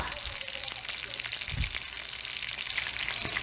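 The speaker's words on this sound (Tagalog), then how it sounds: "Deep fried until golden brown and crisp." Chili pepper lumpia deep fry in hot oil with a steady, fine crackling sizzle throughout, close and even, with a soft low thump partway through.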